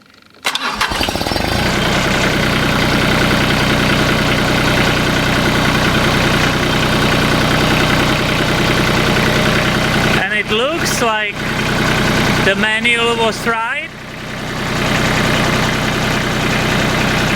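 A Mahindra diesel tractor, just fitted with a new fuel filter, cranks and fires, then settles into a loud, steady, close idle while someone talks over it.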